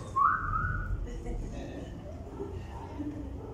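A short rising whistle-like tone from a voice imitating a catcall whistle, followed by continuous speech over a low background rumble.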